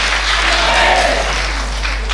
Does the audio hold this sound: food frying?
no